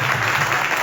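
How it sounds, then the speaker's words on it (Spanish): A church congregation bursts into loud, dense applause, a brief close burst of many hands clapping together. "Dale un fuerte aplauso si se lo vas a dar al Señor."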